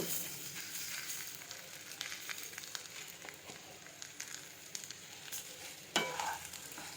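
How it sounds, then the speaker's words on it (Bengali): Pre-fried flattened rice (chira) is poured into a pan with green peas, producing a soft, crackling sizzle with stirring scrapes and a sharper clatter near the end, fairly faint. "আমি যে চিরাগুলো ভেজে রেখেছিলাম তা এখন ঢেলে দিব"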